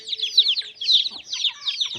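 Country hens on a native-breed chicken farm cluck and cackle in repeated bursts, fairly close and lively, with a faint steady hum underneath and no talking.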